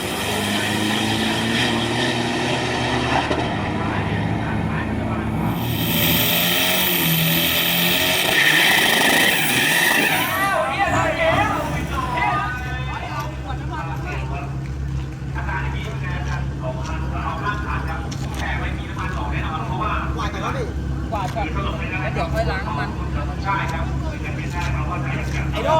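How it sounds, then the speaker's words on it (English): Isuzu 4JJ four-cylinder turbo diesel drag racing engines at a Bangkok drag strip, a loud steady engine drone with a brief swelling roar partway through, continuous and close, with a voice talking over it. "I love the way these 4JJ engines sound as well"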